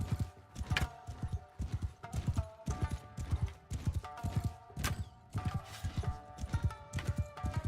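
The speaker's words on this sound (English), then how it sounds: "My horse is not a very good horse" Galloping horse hooves from the Mount & Blade II video game pound in a steady, rapid rhythm of loud, close thuds throughout, with no talk over them.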